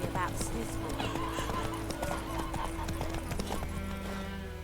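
Roach the horse in The Witcher 3 galloping with rapid, steady hoofbeats and letting out a whinny, loud and close against game sounds, with a voice speaking over the top.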